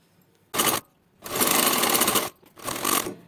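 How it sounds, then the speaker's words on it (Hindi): A sewing machine runs a straight stitch over buckram laid on a salwar hem, in three separate bursts: a short one, a longer steady run, then another short spell, close and loud with no talking. "अब हम इस तरह से बुकरम को यहाँ पर रखेंगे और सीधी सिलाई बुकरम के ऊपर लगा देंगे"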